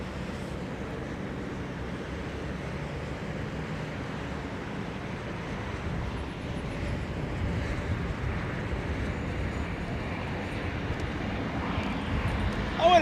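Broad, rushing roar of a Boeing Dreamliner airliner passing overhead at London Heathrow, steady and distant at first and growing slightly louder toward the end, with wind buffeting the microphone.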